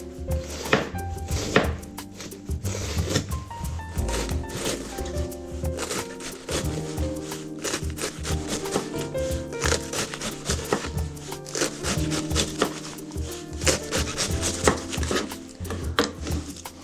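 A knife chops cabbage on a cutting board in quick, steady strokes, dense rhythmic thuds continuing close and loud throughout, with no talking.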